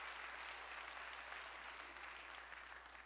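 Congregation applause during a church worship service, a steady wash of clapping that fills the whole moment at a fairly soft, distant level with no voices over it.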